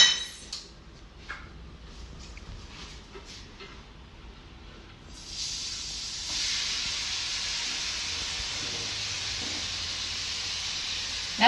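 Chopped onions tipped into a pan of hot olive oil for a vegan beetroot soup, settling into a steady close sizzle and hiss after a few soft utensil clinks.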